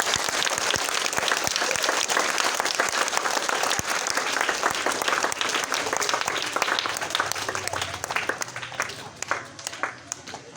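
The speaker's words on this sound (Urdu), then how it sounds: "تالی بجائے نا پھر" A group of children applauds, giving dense, continuous clapping that holds steady for about ten seconds and then begins to thin out and scatter toward the end.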